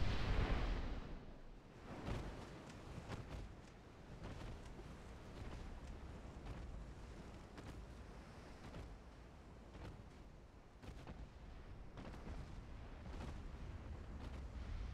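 Battleship naval gunfire in the Ultimate Admiral Dreadnoughts game, faint deep booms and rumbling blasts under a constant low roar, with occasional sharper distant reports and no talk.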